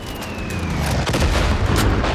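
A loud, deep rumbling bomb blast from Far Cry 5, a sustained low roar with crackling debris that swells and lingers for about two seconds, heard close and alone.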